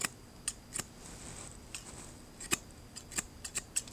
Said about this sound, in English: Cut the paper towel,